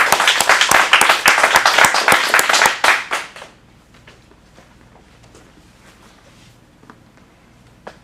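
An audience at an adult acting studio showcase in Phoenix claps for a performer, loud rapid applause for about three seconds that then fades out to near silence with a few faint sounds.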